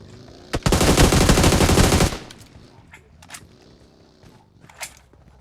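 Gunfire in a shooting video game erupts as one loud, rapid automatic burst of about a second and a half, followed by a few quieter scattered shots and clicks.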